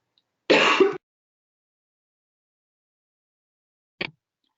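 A person clears their throat once, close and loud. After a few seconds of silence comes a single brief, dry cough.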